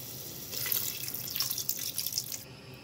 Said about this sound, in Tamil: தேவையான அளவு கொஞ்சம் தண்ணி ஊற்றிக்கலாம்.